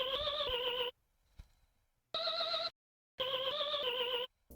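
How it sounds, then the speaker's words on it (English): Synth "artificial key" pattern from Surge XT in an FL Studio jazz-style beat: three bright, wavering tonal phrases separated by silent gaps, played alone and fairly quiet. "for this next sound, it's the artificial key."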